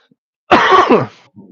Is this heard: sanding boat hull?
no